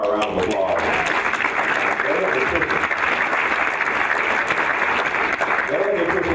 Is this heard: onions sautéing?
no